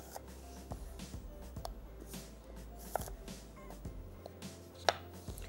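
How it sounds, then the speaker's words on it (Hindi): Small onions being finely chopped on a board, a quiet, steady series of knife taps, some crisper than others, with faint background noise and no talk. "इसको हमने बारीक काट लेना है"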